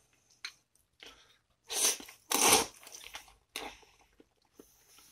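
Someone chews cold frozen udon noodles topped with natto and ponzu, a series of close, wet squelching and crunchy mouth sounds in uneven bursts, with no talking.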